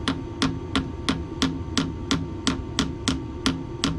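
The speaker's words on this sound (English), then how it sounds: "preferably with a soft hammer like this bronze one" Steady metallic tapping with a bronze soft hammer on a grinding disk arbor, about eleven evenly spaced strikes at a brisk rhythm over a faint electrical hum.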